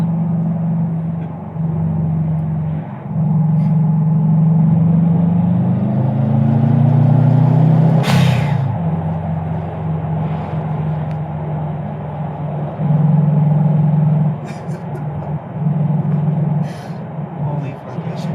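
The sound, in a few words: car engine revving at half throttle after exhaust leak fix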